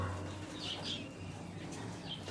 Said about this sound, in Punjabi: ਇਹ ਉਹ ਕਬੂਤਰੀ ਆ ਤੇ ਆੜਾ ਕਬੂਤਰ ਆ